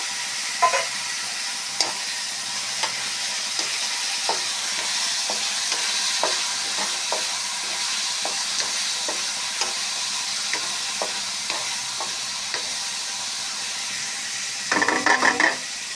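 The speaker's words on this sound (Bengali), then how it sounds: "এখন দিয়ে দিচ্ছি কাঁকড়া" Crab frying in a pan with red lentils for a Bengali curry, a constant hiss of sizzling oil broken by regular light scrapes of a spoon and a short burst of clattering stirs near the end, close, no talking.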